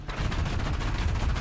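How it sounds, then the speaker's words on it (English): Rapid gunfire from the video game Rogue Trader, a dense continuous burst of loud shots filling the whole moment with no voices over it. "I'm going to still shoot you."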